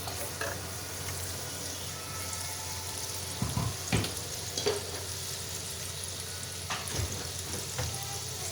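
Onion paste with garlic and ginger fries steadily in a pot for a village-style paya, a continuous close sizzle broken by a few clinks and scrapes of stirring.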